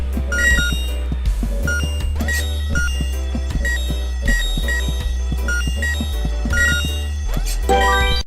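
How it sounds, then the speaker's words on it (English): A fire alarm in the video game Horace rings in a loud, rapid, repeating electronic pattern, its bright ringing pulses sounding over a throbbing musical backdrop throughout, with no talking. "The ear-splitting sound was the fire alarm."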